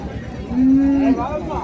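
A single loud, close moo from cattle at a large cow market in Krishnagiri district, one sustained call rising over a murmur of background crowd noise.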